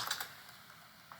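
Quiet, quick bursts of typing on a computer keyboard while entering an email address, a few soft key clicks spaced across a brief moment with near silence between.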